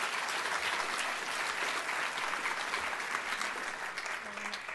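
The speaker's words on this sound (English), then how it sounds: "let's clap for Ruth." A gala audience applauds in honor of Ruth Kirstein, a dense, steady wash of clapping from a large room that holds at an even level for the full stretch, with no voices rising above it.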